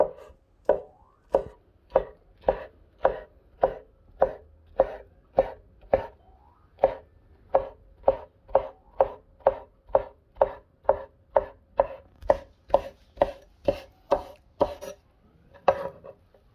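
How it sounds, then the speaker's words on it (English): A knife chops through a cooked omelet on a board, about thirty sharp, evenly spaced cuts knocking in a steady rhythm, close and distinct with no talking. "Now we're gonna slice it into pieces."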